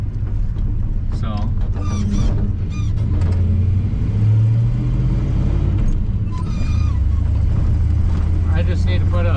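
An old Chevy Squarebody truck with a stock 350 engine drones loud and close as it tows a trailer, a steady low rumble that swells slightly under someone talking throughout.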